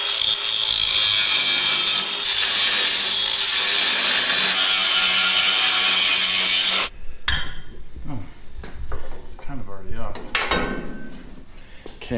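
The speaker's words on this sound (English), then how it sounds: "if we need it out of the way, we'll just cut it off. It's just metal." A loud, continuous metal-cutting tool grinds through a part on a wrecker truck for several seconds, then stops abruptly, leaving softer scraping and rattling sounds.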